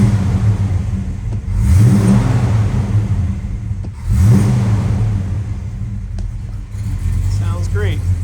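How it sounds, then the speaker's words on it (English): A 1969 Dodge Dart GT 340 with a 4-barrel carburetor and 4-speed manual gets two sharp throttle blips that rise and fall, a deep, loud V8 rumble idling between them, with a person speaking briefly. "I'm gonna flick the lights on and get a couple revs for you guys."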